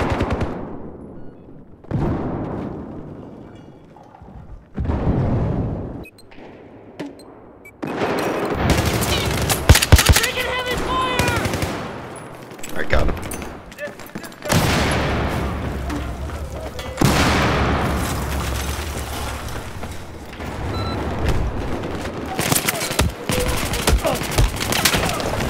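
Bursts of automatic gunfire and booming shots from Battlefield 4, Operation Locker close-quarters match, loud and dense across most of the stretch with intermittent voices underneath.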